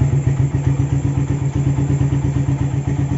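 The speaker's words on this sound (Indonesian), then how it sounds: "Kelihatan dari bunyi knalpotnya sudah sangat bertenaga ya." A Suzuki Satria FU motorcycle engine fitted with a Tiger oversize piston runs close by with a fast, even exhaust throb, loud and steady at idle-to-mid revs with no talk.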